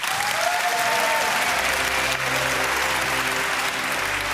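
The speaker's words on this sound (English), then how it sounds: "Big applause." Applause at the Young Inventors Prize 2025 awards ceremony, a large audience clapping loudly and steadily for several seconds, with faint crowd murmur and no clear talk.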